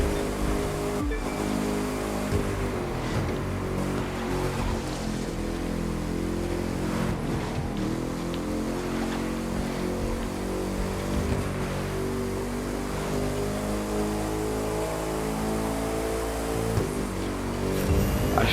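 A car drives and boosts in The Crew 2 racing game, with a continuous engine drone and rising and falling revs under a steady background wash.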